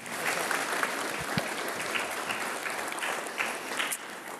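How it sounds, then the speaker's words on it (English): Applause from an audience inside a church, a steady, dense wash of clapping that holds at an even level throughout. "You want some applause?"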